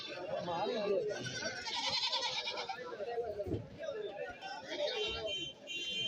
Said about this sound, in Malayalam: കണ്ടമാനം ആട് വന്നിട്ടുണ്ടെന്ന്